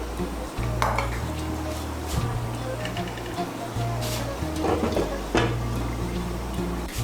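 A pot of prawn and taro curry being stirred and covered with a lid, with clinks and scrapes of metal utensils and cookware over a low background hum, with a person speaking at times.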